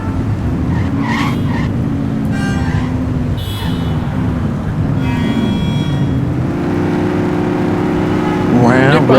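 A green car in The Precinct drives nearby with a steady, loud engine drone and repeated tire squeals and skids, the revs rising toward the end, with a voice talking over it.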